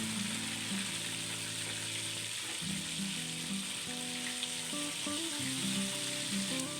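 One kilogram of chicken frying in ghee with browned garlic and ginger, a steady close sizzle and crackle running throughout with faint stirring and utensil clatter, and no talking.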